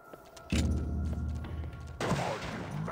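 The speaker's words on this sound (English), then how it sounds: "he threw a fucking grenade at me" In the video game Turok Evolution, a grenade explodes with a heavy, close boom that rumbles on, and a second loud blast hits moments later. No one speaks.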